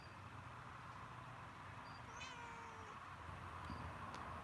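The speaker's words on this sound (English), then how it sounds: "My cat's walking by me." A house cat meows faintly a few times, thin and distant under a steady indoor hum.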